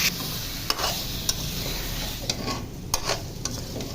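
Spice paste and raw mango pieces sizzle in a hot pan while a spatula stirs, with a steady frying hiss broken by several distinct scraping clicks.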